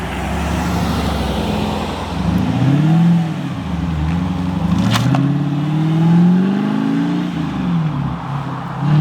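A manual-swapped Mercedes C55 AMG driving on a road, engine droning loudly nearby and rising and falling in pitch through gear changes and revs, with road and wind noise.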